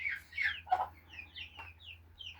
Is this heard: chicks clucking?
yes